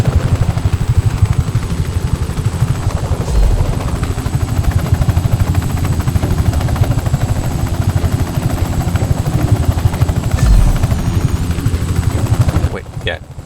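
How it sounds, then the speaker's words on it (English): An attack helicopter flying in the video game Just Cause 3, a loud, steady rotor drone with a rhythmic chopping pulse held close throughout, with a couple of brief thuds along the way before it cuts off. "it's an attack helicopter"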